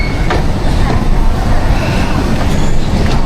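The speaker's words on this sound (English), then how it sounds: "I think my train's already waiting there." A Chinese high-speed train waits at a railway station platform in sub-zero cold, heard as a loud, steady rumble and hiss of rolling stock close by, with faint voices mixed into the din.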